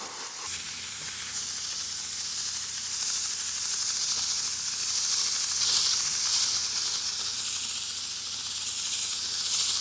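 A spray gun spraying year-old contact cement hisses in a continuous bright rush, close and loud, swelling and easing slightly as the spraying goes on.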